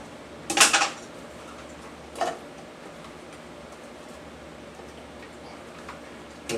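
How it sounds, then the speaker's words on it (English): Onions chopped with a knife on a board in a home kitchen, heard as two sharp, separate knocks a second and a half apart, with only faint room noise between and after them. "this is a nice way to chop up your onions"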